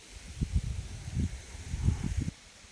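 Wind pushes against a tent in uneven low gusts, buffeting and flapping the fabric in rough surges over a faint hiss before dropping off near the end.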